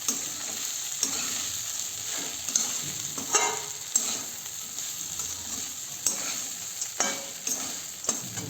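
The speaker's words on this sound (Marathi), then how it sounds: "आणि आता हे 1-2 मिनिट परतायचं आहे" Flattened rice (poha) being stir-fried in a pan, with steady soft sizzling and repeated scraping strokes of a spoon through the grains, close and continuous, no talking.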